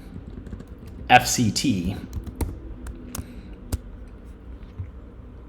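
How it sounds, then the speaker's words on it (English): Rapid clattering keystrokes on a computer keyboard come in a quick burst, then a few scattered single clicks, close and crisp, while someone speaks briefly over them. "if I start typing in"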